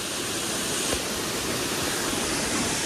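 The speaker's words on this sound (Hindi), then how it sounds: "वहाँ पर है वाटरफॉल" A waterfall in a hilly picnic spot, a steady dense hiss of falling water, even and continuous, heard from a moderate distance without talk.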